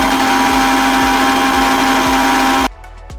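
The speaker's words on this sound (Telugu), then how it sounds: "ఇప్పుడు దీన్ని మిక్సీ" A kitchen mixer grinder blends muskmelon with cooled boiled milk into a milkshake, a loud, steady whirring hum with a rhythmic pulse that cuts off sharply near the end.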